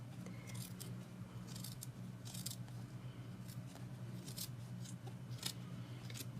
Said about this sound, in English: now we're going to cut along the edge